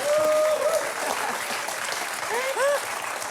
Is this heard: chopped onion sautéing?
no